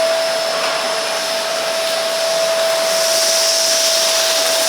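A Philips Bagless Vacuum Cleaner 1000 Series XB1112/10 runs with a loud, steady motor whine and airy rush, holding a constant high-pitched tone throughout with no talking.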